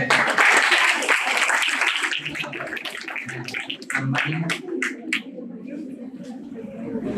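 Audience at an NRI marriage awareness seminar applauds loudly for about two seconds, then the clapping fades into quieter room sounds and voices.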